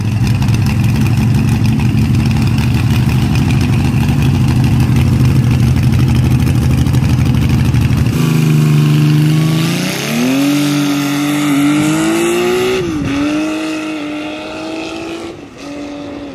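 A Benelli motorcycle engine with a shrill, high-pitched note, first running steadily at high revs, then dropping and revving up again in rising sweeps, loud and close with no talk.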